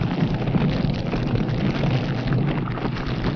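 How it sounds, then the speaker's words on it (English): Conventional high explosive burning inside a nuclear weapon during a fire safety test, giving a steady, loud, dense roaring rush of flame with crackling texture that continues unbroken throughout. "The characteristic white flame indicates that the ordinary explosive is burning in the weapon."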